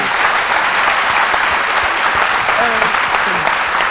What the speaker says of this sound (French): On va applaudir pour l'encourager.